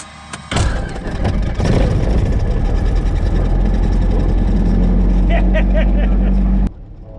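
A small training aircraft's piston engine cranks and catches on a key start, then settles into a loud, steady, close idle drone that runs for several seconds before cutting off abruptly, with voices briefly heard over it.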